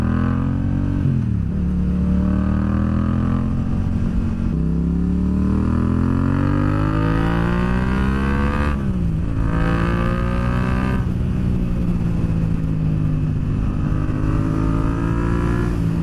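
A Yamaha MT-07 motorcycle engine drones steadily at close range, its pitch rising and falling as the rider works the throttle, with no talking over it.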